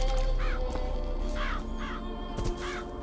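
Crows in Bioshock Infinite caw in short harsh bursts, four distinct calls spaced across a few seconds, heard over a dense, noisy game background.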